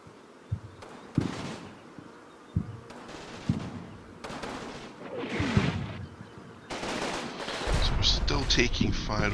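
Rifle and machine-gun fire crack and thud with explosions in a WWII tactical combat video game, Combat Mission with German forces in a meeting engagement, arriving in repeated bursts that build into dense sustained firing, with some game voice chatter mixed in.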